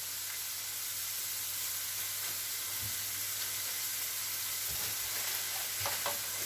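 Minced meat frying in a pan while being stirred, a steady close sizzle with faint scraping strokes, no talk, with a low constant hum underneath.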